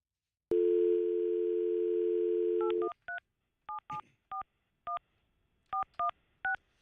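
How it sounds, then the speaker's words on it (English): A phone dialed live on a radio morning show: a steady dial tone for about two seconds, then a string of crisp, separate touch-tone beeps in uneven rhythm, loud and close, with no talking. "Let me dial up."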